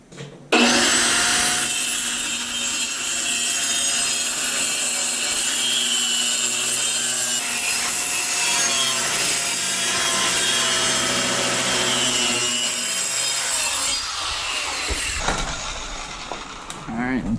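Long, steady hand sawing through a wooden board cut for a jon boat transom, a rapid rasping stroke rhythm held close and loud for about fourteen seconds before stopping, then brief handling noise.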